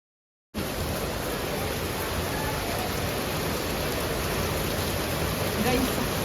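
Rain pours down during an outing in the hills, a dense, even hiss that starts suddenly and holds at a constant level with no break or voices.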